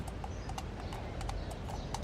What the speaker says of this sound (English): you see a horse and carriage with a driver wearing a long dark coat and dark top hat